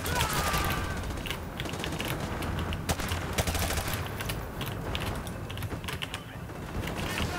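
Rapid gunfire from Call of Duty Modern Warfare 2 Remastered on Veteran difficulty, a dense, continuous fusillade of overlapping shots and bursts at steady loudness across the whole stretch, with faint voices now and then beneath the shooting.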